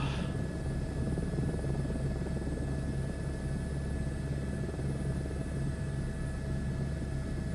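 A helicopter flying in Microsoft Flight Simulator 2024, its engine and rotor giving a steady, fairly loud droning whine with a constant low throb, unbroken and alone for several seconds.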